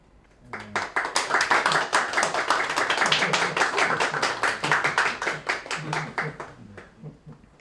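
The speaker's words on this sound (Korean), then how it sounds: "장관님 박수 소리 들리시나요?" A small group applauds at an online ceremony, rapid close claps building quickly and holding steady for several seconds before thinning out.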